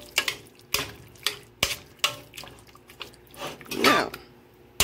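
Cajun spice being stirred into chicken noodles in a pot, with a spoon knocking against the pot in repeated sharp clinks and wet scraping swirls at a close, moderate level.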